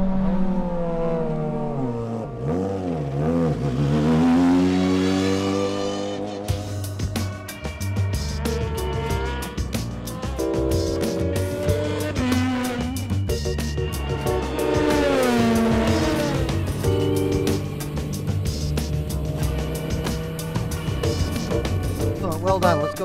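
A race car circles a track, its engine climbing and falling through sweeping rev changes as it accelerates and shifts, loud and continuous with a gritty, buzzing tone throughout.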